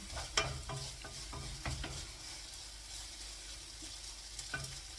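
Food sizzles and crackles steadily in a pan, with occasional clinks and scrapes of stirring, fairly quiet and without talk.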